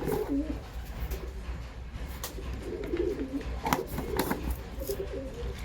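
Soft coos from baby pigeons repeat in low, throaty bursts at close range, with a few faint clicks and rustles between them.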